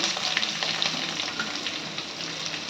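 Moringa leaves fry with onions, green chillies, dried red chillies and curry leaves in a pan over a medium flame, giving a steady, dense sizzle with soft stirring throughout and no voices.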